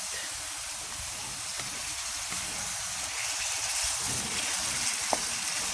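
Beef and broccoli stir fry sizzles loudly after the sauce goes in, a dense, steady hiss of steam and bubbling that builds slightly, with a brief utensil tap near the end.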